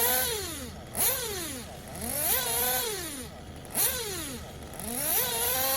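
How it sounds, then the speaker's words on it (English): A Tekno RC Blok 21bm nitro engine runs close up while warming, its high, buzzing whine sweeping up and down in repeated rev cycles, with brief sharp blips between the sweeps. "we're going to let the engine run for a little bit, get some more temp into it, and just let the engine kind of reset"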